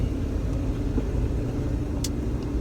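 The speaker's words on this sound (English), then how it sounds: "I'm trying not to crash while I'm driving" Car being driven: a short, steady low road rumble from inside the cabin, with no talking.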